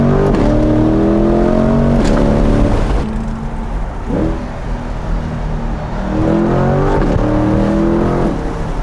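A rebuilt Corvette C8 accelerates hard, its engine climbing loudly through rising revs with sharp drops at each upshift, the roar swelling again through successive gears close by.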